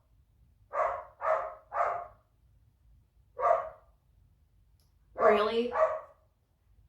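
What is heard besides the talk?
dog barking next door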